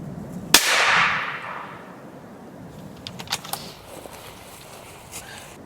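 A single sharp rifle shot from a Heym SR30 during a roe doe cull cracks loudly and close, its report decaying over about a second, followed by faint clicks and rustles of handling in the quiet.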